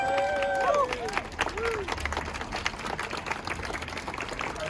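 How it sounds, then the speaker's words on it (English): A round of applause from a crowd at a benefit cuts protest in Cardiff, outdoors, with clapping and scattered voices and a few shouts that bend in pitch, moderately loud and continuous. "So if maybe we could all give each other a round of applause for coming out here tonight."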